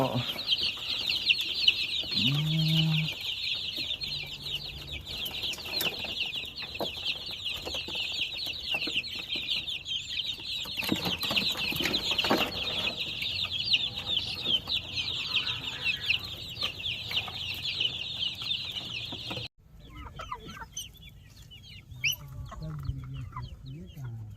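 Chickens and chicks cluck and chirp continuously in the background, with a brief low call early on; the sound drops off abruptly near the end.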